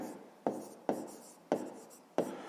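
A pen writes down an answer in a maths exercise, making five short, close scratching strokes at a fairly even pace, each fading before the next.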